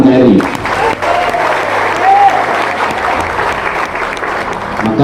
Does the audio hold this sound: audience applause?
yes